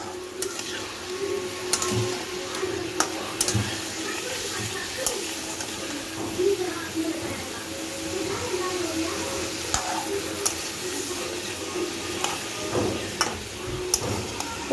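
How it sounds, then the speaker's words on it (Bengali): Food frying in a pan, a continuous moderate sizzle with occasional scraping and stirring clatter while a person talks over it. "দেখুন এই যে ভাজাটা ভাজছি"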